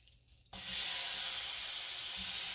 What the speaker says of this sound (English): I'm just going to add some butter, a little olive oil, now I'm going to add the shrimp